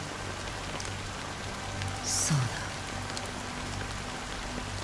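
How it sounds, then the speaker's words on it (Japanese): Rain falls steadily in the Honkai Star Rail video game as a soft, even hiss of patter throughout, with a brief louder swell in the middle and a short spoken word over it. "雨はまだ止んでいない。"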